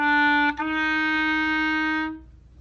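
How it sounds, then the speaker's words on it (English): A clarinet plays a clear, steady sustained tone, with a brief break and reattack early on, then holds and stops cleanly; close and alone in a quiet room. "The typical range of the clarinet sounds like this."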